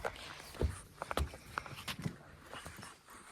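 A draft horse stomps through a puddle, giving a few heavy, dull hoof thuds with faint splashing and scuffing, quiet and fairly close.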